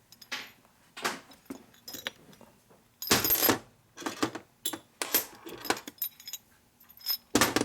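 Metal tools and parts rattle and clink as a ratchet and two long bolts are picked up and handled during a Harley shovelhead motor rebuild, a close series of sharp jangles and clanks, some louder bursts, with no talking.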